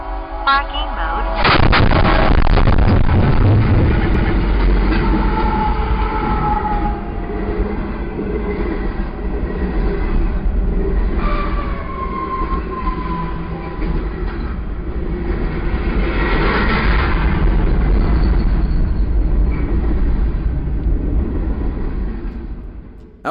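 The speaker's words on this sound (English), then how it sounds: "Unable to move, she abandoned the car and watched the train plow through." A sudden heavy crash and crunching impact as a train hits a car stuck on the tracks, followed by a long loud rumble of the train rolling past with rattling, screeching metal, recorded by a dashcam.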